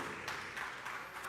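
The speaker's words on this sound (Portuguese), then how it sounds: "Você pode aplaudir o Senhor por essa palavra tão especial, tão gloriosa" A church congregation applauds during an afternoon service, faint and distant steady clapping with a few swelling waves, no voices over it.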